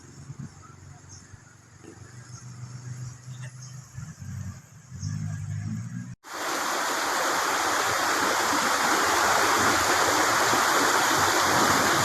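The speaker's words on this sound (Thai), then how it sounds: "เป็นน้ำตกที่สวยงามมากขึ้นชื่อของจังหวัดนครศรีธรรมราชนะครับ" Khiri Wong waterfall in Lan Saka, Nakhon Si Thammarat, Thailand: after a few seconds of quieter ambience with faint voices, a loud close roar of rushing falling water suddenly takes over and holds steady.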